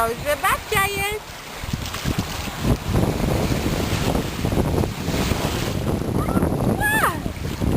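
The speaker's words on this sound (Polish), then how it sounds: "Na piaseczku i fale przychodzą" Waves roll onto a sandy Florida beach with steady surf wash and wind buffeting the microphone, while an adult and a baby talk and babble close by.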